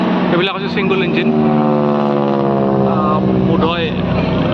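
At an air show, a single-engine aircraft drones loudly and steadily with a strong humming engine tone that holds for several seconds, while voices are heard over it.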